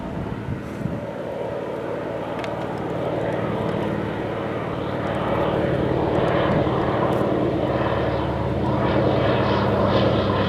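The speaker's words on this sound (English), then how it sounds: "I'm now convinced that airplanes are not disturbing these caribou." A propeller airplane flies over a caribou river crossing in the wild. The engine drones steadily and grows louder as it approaches, a sustained hum that lasts throughout with no voices.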